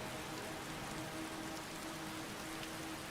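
Steady rain pours down in a heavily modded PC role-playing game, a dense continuous hiss of drops spreading evenly across the whole stretch, with no voices and no thunder.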